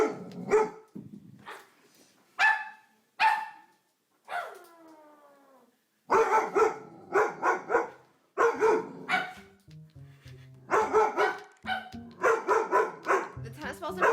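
A big Doberman scared of a cuddly toy barks in loud, close bursts, with yips and a drawn-out whining howl, mixed with people talking between barks.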